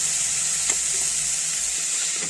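Vanjiram dry fish frying in a pan, a steady close hiss of sizzling oil running throughout with a faint stir or clink near the start.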